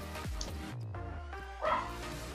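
Dogs barking in the background of a FIFA 20 career mode session, a few short yips and barks mixed with game audio and a faint voice, fairly close and moderately loud.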